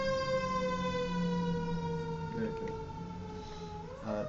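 A fire engine's wailing siren with a long, steady, slowly falling tone, heard outside and picked up indoors. It stays fairly loud and even as it passes.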